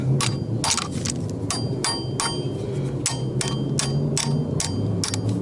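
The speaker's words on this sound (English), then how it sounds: "And I'll take this and I'll just tap back and forth" A ball peen hammer taps repeatedly on a 3-jaw gear puller fitted to an engine balancer during an NSRT4 engine teardown, about a dozen sharp metallic clanks in an uneven rhythm, close and loud.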